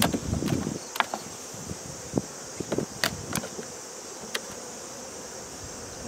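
Honey bees buzz around a hive super during a September inspection of a split, a thin steady drone with a few sharp clicks and knocks from handling the hive, no voices.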